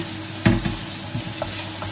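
Tomato dropped into onions frying in a pan, giving a sharp burst of sizzle followed by softer stirring and scraping, alone and fairly close.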